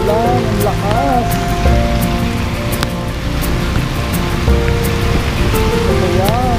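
Heavy rain pours down in a dense, constant patter, with people talking and exclaiming over the downpour.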